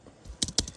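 Keys on a Logitech MX Keys for Mac keyboard are pressed in a quick cluster of about three or four crisp, close clicks.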